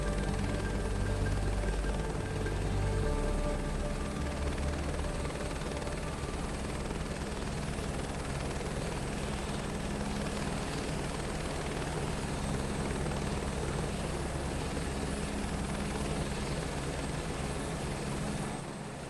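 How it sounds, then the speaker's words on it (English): A helicopter flies steadily in Microsoft Flight Simulator 2024, its loud rotor thrum and engine whine a continuous wash throughout with no talking. "She's in the helicopter."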